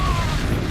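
An Expulso spell blast in the video game Hogwarts Legacy, a short, loud, booming burst with a low rumble and a faint whistling tone over it, lasting under a second with no voice.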